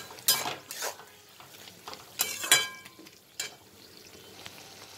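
Green chillies go into a frying pan and get stirred, making a few sharp clattering scrapes of a utensil against the pan over a low, quiet sizzle.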